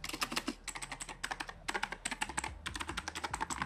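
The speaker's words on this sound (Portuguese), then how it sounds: "Esses são os barulhos das teclas." Mechanical keys clack on an Xtrike Me GK-916 gaming keyboard, quick bursts of typing with short pauses, close and fairly quiet.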